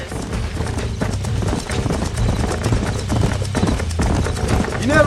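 Horses gallop in the Red Dead Redemption video game, a steady, rapid clip-clop of hooves layered with low rumbling game ambience, with a whinny rising near the end.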